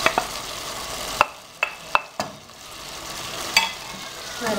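Eggplant going into simmering canned tomato sauce in a pan and being stirred: soft, steady sizzling with a few sharp scrapes and clacks of the spoon against the pan.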